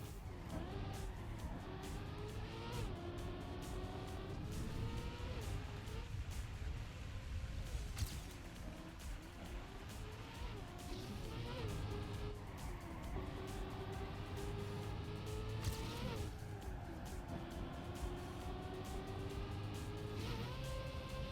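Race car engine from Trackmania revving and roaring steadily for the whole stretch, pitch rising and falling with gear shifts and corners, loud and close with no talk.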